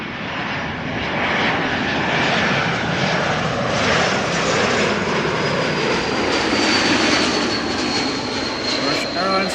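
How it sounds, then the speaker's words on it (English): A Croatia Airlines Airbus A220 arriving at Schiphol from Zagreb, its jet engines producing a strong, continuous roar that stays loud throughout the pass. "Croatia Airlines arriving from Zagreb and a nice A220."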